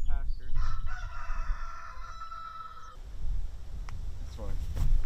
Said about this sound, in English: That's roosters.